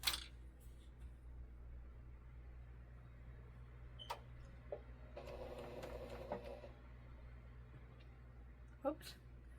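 A sewing machine stitches fabric in one brief burst of about a second, a close whirring run between quiet handling noises and clicks, with a person talking around it.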